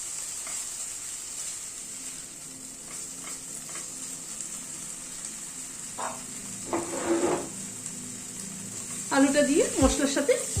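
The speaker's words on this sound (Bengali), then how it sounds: "আলুটা দিয়ে মশলার সাথে একটু মিনিট খানেক নাড়াচাড়া করে নিলাম।" Potatoes and spices sizzle and fry steadily in a pan, with stirring scrapes and clatters growing busier toward the end, under a soft hiss.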